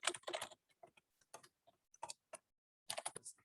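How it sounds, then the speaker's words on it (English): Light, irregular keystrokes on a computer keyboard clatter in quick bursts with short pauses, close and fairly quiet, in a Pico-8 coding workshop setting. "Keyboard is not tactile enough."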